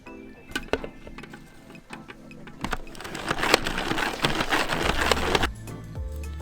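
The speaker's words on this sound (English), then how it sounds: "throw them into the salad spinner, and wash them and spin them dry" Salad spinner whirring as washed, roughly chopped vegetables are spun dry, with clicking mechanical rattles building into a steady spinning whir before slowing near the end.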